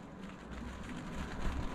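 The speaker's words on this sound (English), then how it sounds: "Oh, there's the rain." Rain comes down on an 88-year-old open-cockpit 26-foot timber sailing boat crossing Bass Strait, a brief, even and fairly loud wash of patter with a low rumble beneath and no voices.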